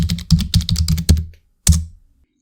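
Computer keyboard keys clatter in quick irregular bursts while code is written, close and crisp, with a pause before a final short flurry of keystrokes.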